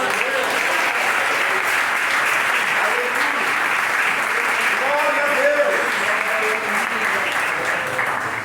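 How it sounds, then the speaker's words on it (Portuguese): A church congregation at a Father's Day worship service breaks into steady, dense applause that fills the room for the whole stretch, with a voice speaking over it. "Se você concorda comigo, aplauda ele por isso"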